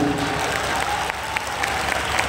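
Applause from an audience at a poetry recital, a steady moderate clatter of many hands running without break, with faint murmurs beneath.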